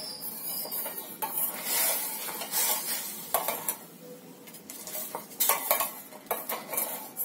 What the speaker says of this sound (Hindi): इसको चलाना है बीच बीच में.